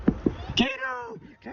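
A cat meows close by, a short rising-and-falling cry after a couple of quick vocal sounds.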